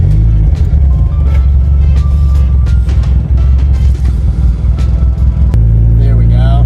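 A Mazda Miata, bought cheap and in rough condition, rumbles loudly and steadily at close range after starting, its engine idling and revving with a low continuous drone while people talk over it.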